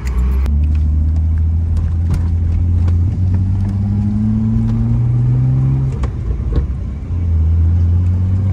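A BMW E36 engine hums steadily from inside the moving car, a loud, continuous drone whose pitch rises smoothly as it accelerates, then drops and settles again.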